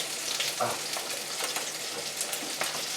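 Merguez-seasoned chicken thighs lifted out of a hot frying pan, a steady close sizzle and spatter with a few soft utensil scrapes, no talking.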